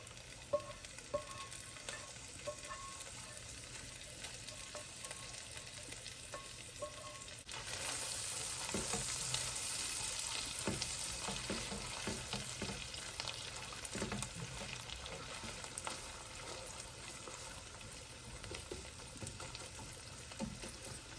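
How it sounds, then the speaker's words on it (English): Sausage and onions sizzle steadily in a pan, a quieter frying hiss that grows louder and busier about halfway through as more food hits the hot fat, with occasional stirring scrapes and no talking. "Now I'm going to get my sausage and onions added back in here."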